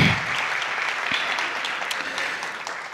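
Audience applause at a jalsa at an Islamic centre, a dense, steady wash of many hands clapping that carries evenly through the whole stretch without speech.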